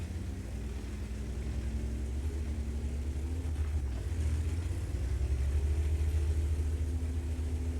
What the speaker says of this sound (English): And we've got the engine noise back again.